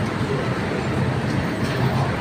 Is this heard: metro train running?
yes